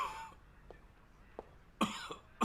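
A sick older man coughs in short, faint bursts, a few light hacks and throat clearings spaced across a couple of seconds, close and quiet.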